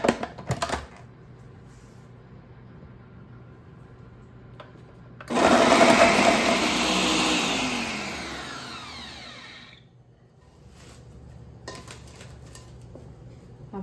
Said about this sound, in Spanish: Así, vamos a licuar para agregarle a los frijoles y a la papa.